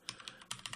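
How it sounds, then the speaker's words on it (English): Computer keyboard keys being typed on while setting up a CMS, a quick run of sharp, fairly faint clicks in an irregular rhythm, close by with no voices. "So this is fictitious, what I'm typing here"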